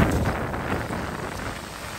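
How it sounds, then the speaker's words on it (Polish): Large stones on a Santorini pebble beach rattle and grind as waves wash over them, a steady, close, dense hiss-and-clatter that fills the whole stretch with no voices. "te kamyczki hałasują"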